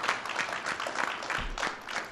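An audience applauds military leaders at a Toys for Tots event, a dense, steady patter of many hands clapping close by.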